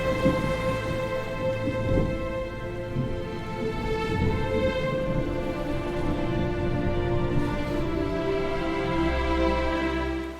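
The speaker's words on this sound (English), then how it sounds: "They recalled the terrifying storm that flooded the village and destroyed the villagers' homes." Steady rain falls throughout a thunderstorm that floods a village, with low rumbling thunder rolling under the continuous hiss and a deeper swell near the end.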